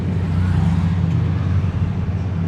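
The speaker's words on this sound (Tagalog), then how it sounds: "Grabe yung traffic oh." Congested road traffic in San Fernando, La Union, on a hot day: a steady, dense low rumble of idling and creeping engines fills the whole stretch without a break, close and constant, with no clear voices.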